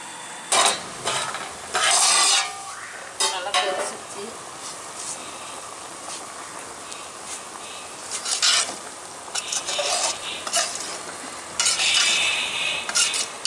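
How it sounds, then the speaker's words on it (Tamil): Fish curry (meen kulambu) cooking in a pot in a village kitchen, with intermittent scraping and stirring bursts over a steady bubbling, hissing background at close range. "குழம்பு நல்லா கொதிச்சிருச்சு."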